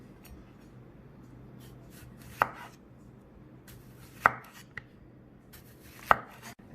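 Knife chopping fresh tomatoes and cucumbers for a garnish to serve with chicken rice, three distinct sharp board strikes spaced about two seconds apart over a quiet room background.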